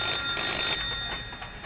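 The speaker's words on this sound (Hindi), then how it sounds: "फोन बज रहा है" A telephone bell in a film scene rings loudly and continuously, its bright metallic trill filling the clip with no talking.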